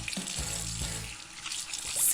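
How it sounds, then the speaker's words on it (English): Running tap water fills a sink for cartoon hand washing after using the potty, a steady mid-level stream heard alone for about two seconds. "After we use the potty, we need to wash our hands."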